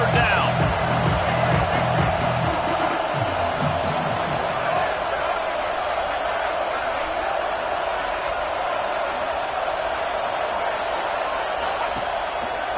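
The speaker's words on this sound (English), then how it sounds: "Decibels rising as the crowd gets behind this defense on 3rd down." Stadium crowd in a college football video game roaring steadily behind the defense on third down, a dense continuous wall of cheering noise at even loudness with some game sounds early on.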